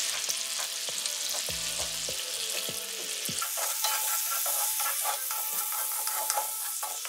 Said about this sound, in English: I'm just crushing the tomatoes a little bit